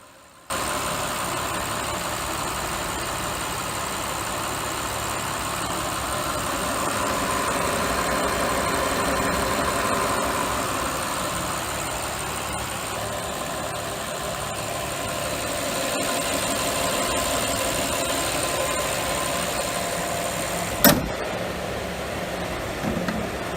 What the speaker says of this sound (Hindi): तो ये थी V12 इंजन की साउंड